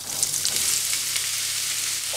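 Vegetables frying in two tablespoons of hot olive oil in a very hot coated pan, a steady close crackling sizzle throughout with no talking.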